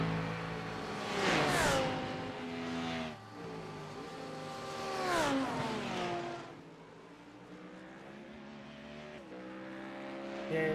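A Lamborghini GT race car in the iRacing simulation at Imola during a GT Challenge race, its engine loud and close, twice rising to a high rev before shifting and falling away, with a steady engine drone in between.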